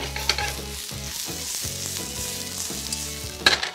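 Frozen green peas and corn sizzle and fry in a pan while being stirred, a steady close frying hiss with repeated scraping stir strokes and a sharper clatter near the end.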